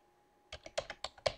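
Fast keystrokes on a computer keyboard as a command is entered at a command prompt: about eight crisp, close clicks in a quick uneven burst after a brief quiet moment, with no talking.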